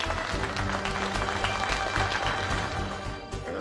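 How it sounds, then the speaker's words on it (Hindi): A crowd claps together, a busy and continuous patter of many hands at moderate level that thins slightly near the end, with a faint murmur beneath it. "एक बार तालियां हो जाए भाई"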